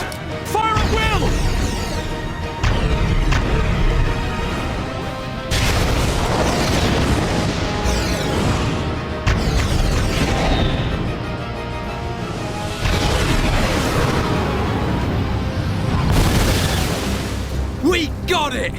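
Weapons fire and explosions in the Xenoblade Chronicles video game during a colony defense battle: loud booming blasts and heavy rumbling that start and stop in sections, mixed with a musical score and voices.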